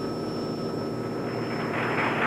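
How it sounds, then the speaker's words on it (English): A helicopter flies toward the aircraft carrier Hornet, producing a steady, moderately loud engine drone that swells slightly near the end. "They came out of the chopper looking like men from another planet."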